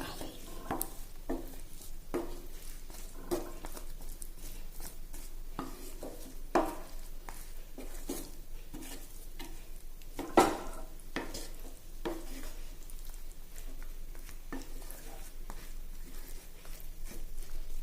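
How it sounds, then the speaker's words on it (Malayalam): Ivy gourd stir-fry being stirred in a pan with no water added, a spoon scraping and clinking against the metal in irregular strokes over a soft, steady sizzle, with one sharper knock partway through. "അപ്പോൾ വെള്ളമൊന്നും ചേർക്കാതെ നല്ലപോലെ എല്ലാം കൂടി ഒന്ന് ഇളക്കി യോജിപ്പിക്കുക"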